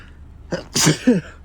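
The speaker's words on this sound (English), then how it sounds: "excuse me, I've got sneeze." One abrupt, close sneeze with a sharp intake of breath before the loud burst.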